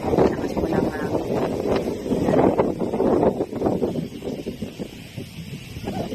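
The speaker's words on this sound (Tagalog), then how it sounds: "Lakas po ng hangin." Strong wind buffets the microphone at a remote outdoor site, heavy gusting rumble rising and falling throughout with a brief faint voice underneath.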